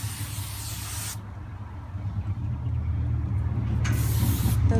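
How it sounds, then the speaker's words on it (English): Hairspray is sprayed onto styled hair in two bursts, a long close hiss at the start and a shorter one near the end, with quiet background between them. "You can once again spray for any loose hairs."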